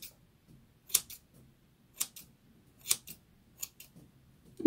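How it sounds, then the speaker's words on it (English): Household scissors snip through hair while someone trims their own fringe: about five crisp, close cuts spaced roughly a second apart, each a sharp double click, in an otherwise quiet room. "I'm gonna cut my fringe while I'm at it."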